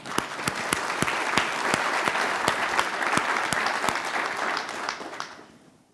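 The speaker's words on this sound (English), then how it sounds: "A big round of applause for all of you." A conference audience at a business summit in Washington applauds steadily, a dense wash of clapping with some sharper individual claps standing out, sustained for several seconds before fading away at the end.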